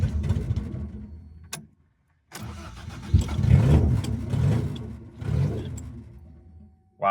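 A Toyota 4AGE engine in a 1975 Corolla KE35 with an open exhaust manifold barks and revs loudly and close, cutting out briefly before firing again in rough, uneven surges.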